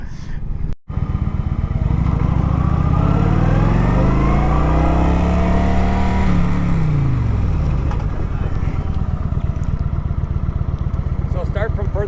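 A motorcycle doing stoppies and emergency braking drills at a riding practice day: a steady close engine drone with a falling pitch as the bike slows, a brief gap near the start, and no talk over it.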